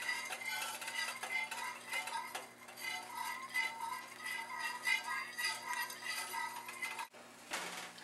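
A spoon stirs cornstarch into orange chicken sauce in a pan, with steady clinking and scraping strokes that carry on for several seconds before a brief pause near the end.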